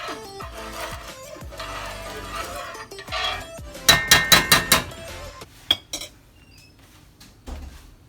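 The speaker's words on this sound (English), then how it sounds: "Scrape them edges, the bottom, get all that flavor off the pot and into that sauce." Jambalaya being stirred and scraped in a metal pot, with repeated clanks and scrapes of a utensil against the sides and bottom, including a quick burst of rhythmic metallic knocks, close and loud.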